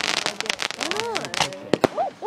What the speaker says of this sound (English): I love those fireworks.